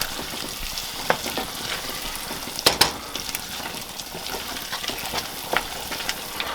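Vanilla boiling off in hot peanut brittle candy in a pan, giving a continuous crackling sizzle with a few sharper pops and stirring scrapes.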